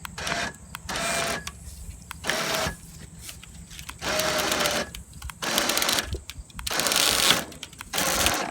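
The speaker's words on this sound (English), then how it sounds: "got the razor winch hooked up. We're getting ready to wedge this post down in here." Electric razor-type winch driving a wooden fence post into the ground while fencing a field with woven wire, a loud mechanical whirring that starts and stops in repeated bursts of a second or so, close by.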